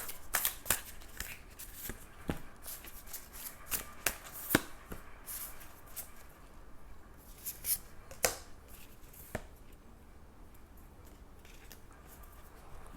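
Tarot cards being shuffled by hand in a quiet room, a series of quick papery riffles and slaps in uneven bursts over about thirteen seconds, close and fairly soft.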